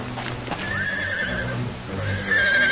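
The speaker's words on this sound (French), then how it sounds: "Espèce de chevaux paresseux! Pas aussi vite! Arrêtez de galoper comme ça!" Horses neigh and gallop in cold, cloudy open country, with shrill whinnies rising over rhythmic clip-clopping hooves; two loud neighs sound close, one in the middle and another at the end.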